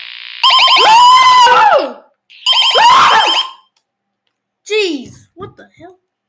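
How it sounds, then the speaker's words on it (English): Sri Lanka's emergency alert system alarm blares at high volume in two long harsh warbling bursts, followed by a shorter chirping tail. "Let's see Sri Lanka's EAS alarm."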